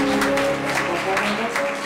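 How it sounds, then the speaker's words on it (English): A church congregation at a New Year's Eve worship service gives a brief hand clap of praise, scattered clapping over sustained tones that sound like music. "let's give the Lord a hand clap of praise."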